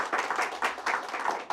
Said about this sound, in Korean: 우리 수고해 주신 두 후보자한테 우리 박수 한번 부탁드릴까요?